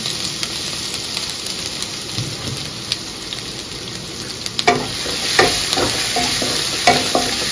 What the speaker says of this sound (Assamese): আৰু ইয়াত দিম আদা নহৰু পেষ্টখিনি।